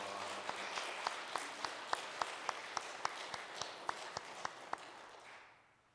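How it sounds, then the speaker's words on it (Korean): At a Sunday church service, a congregation claps together in welcome with a slow, steady beat of distinct claps, fairly quiet and distant, before the sound fades out. "우리 격려와 위로와 환영의 박수로 우리 맞이하도록 하겠습니다"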